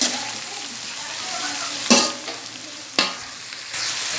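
Chicken Mongolian stir-frying in a home-cooking pan, with a steady close sizzle broken by a few sharp tossing and scraping bursts, no voices.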